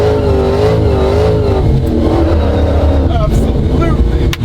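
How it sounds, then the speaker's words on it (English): A 1969 Dodge Charger restomod with a Hellcat engine revs hard from a dead stop into a burnout, a loud continuous roar with rising and falling engine pitch close by, with people's voices mixed in over the engine. "So even just at a dead stop here, let's see what we can do as far as lighting this thing up."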